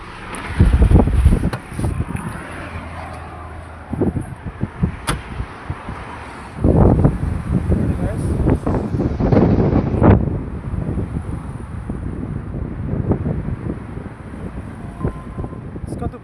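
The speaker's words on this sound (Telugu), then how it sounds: "ఇసుక తుఫాను లేచింది ఇసుక తుఫాను" Strong gusting wind of a sandstorm in Kuwait buffets the microphone in loud rumbling bursts, rising and falling, with a faint high hiss throughout.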